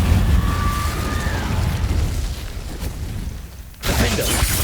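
Incendio fire spells cast in Hogwarts Legacy combat: a loud, sustained roaring burst of flame with a faint tonal shimmer, dipping briefly before a fresh sharp burst erupts near the end.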